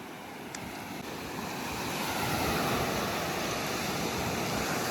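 Sea waves at Tondavali beach on the Konkan coast, a steady broad wash of surf that swells slightly louder partway through, with no talk.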